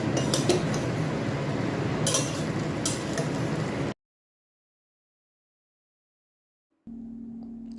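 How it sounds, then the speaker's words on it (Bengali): Chicken and sauce being stirred in a pan, with close clattering and scraping of a utensil against cookware for about four seconds, then silence, then a faint hum. "তারপরে দেখুন ভালো মতো নাড়াচাড়া করে মিশিয়ে নিচ্ছি।"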